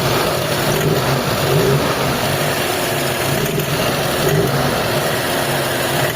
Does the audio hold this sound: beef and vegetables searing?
no